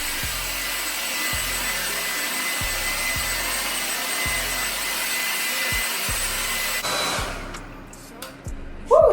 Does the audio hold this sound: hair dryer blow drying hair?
yes